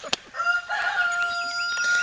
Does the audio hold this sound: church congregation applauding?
no